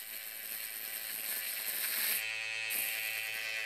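An electric hair clipper cutting hair during a high bald fade, giving a steady close buzz with bright high harmonics that drops briefly midway and resumes, heard alone without talk.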